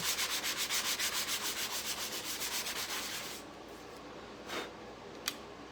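Worn sandpaper rubbed over wood on a beach-hutch cabinet project, in quick, even back-and-forth strokes for about three seconds; it then stops, leaving quiet room tone and a couple of faint taps.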